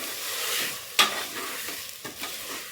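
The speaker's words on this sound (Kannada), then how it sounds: "ಮೊಳಕೆ ಕಟ್ಟಿರೋದು ಸೇರಿಸ್ಕೊತಾ ಇದ್ದೀನಿ ಚೆನ್ನಾಗಿ ಮಿಕ್ಸ್ ಮಾಡ್ಕೊಳ್ಳೋಣ" Sprouted horse gram is stirred in a hot pan for a village-style sambar, giving a steady sizzle with a sharp scrape near the start and softer scraping strokes after; close and with no speech.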